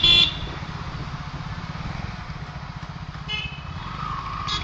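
Scooters riding along a road at night near a Shell petrol pump, their engines giving a close, steady, throbbing drone throughout, with brief higher horn-like tones near the start and again later.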